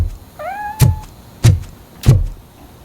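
A cat in the video game Robocop Rogue City lets out a single clear, rising meow, followed by three heavy, evenly spaced thuds, each loud and close.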